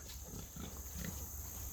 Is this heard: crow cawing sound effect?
no